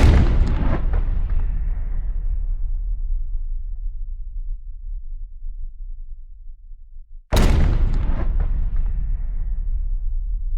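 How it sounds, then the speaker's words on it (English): A slowed-down gunshot sound effect: a deep, booming blast that decays over several seconds into a long, low echoing tail, then a second identical heavy blast that starts abruptly and sustains loudly. "This included the initial gunshot and the echo once we left the slow motion sounds."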